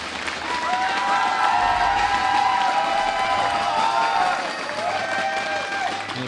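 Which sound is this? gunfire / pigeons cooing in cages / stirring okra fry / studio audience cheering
studio audience cheering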